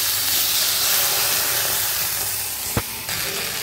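Chopped tomatoes with a little salt sauté in a hot pan for a chickpea, eggplant and potato curry, giving a steady close hissing sizzle, with a brief utensil knock near the end.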